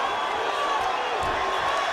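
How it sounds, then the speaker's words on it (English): A boxing arena crowd in San Antonio during a bout between Isaac Cruz and Lamont Roach: a dense, steady roar of cheering spectators, loud and continuous, with an announcer's voice over it. "The crowd in San Antonio."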